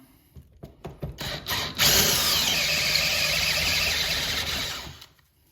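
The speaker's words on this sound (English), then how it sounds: "All right, let's ream it." A power drill reams out a hole during installation of a custom three-piece vanity, starting with a few short bursts and then running as a steady, loud, close whine for about three seconds before stopping.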